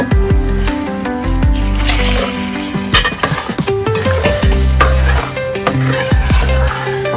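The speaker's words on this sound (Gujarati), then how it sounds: "તો દોસ્તો નાખવાનું છે આપણે ખાંડનું પાણી એમાં" Sugar water poured into roasted semolina in a pan for a homemade sweet, giving a loud, close sizzle with continuous stirring and scraping for several seconds over background music.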